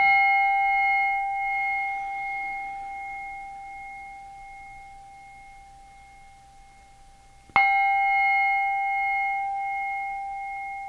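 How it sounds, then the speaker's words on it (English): A singing bowl rung once and left to ring, its steady pure tones slowly fading, then struck again near the end with a fresh bright onset and a long sustain; no talking. "my beautiful bell, my beautiful bowl that gives us this beautiful sound"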